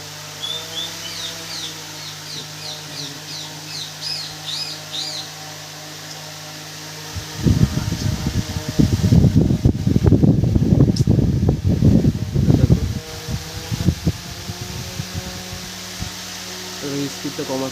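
A small 12 volt DC motor on a speed controller whirs up to speed, rising into a loud, rough broadband roar for several seconds before easing back, with a steady low hum beneath.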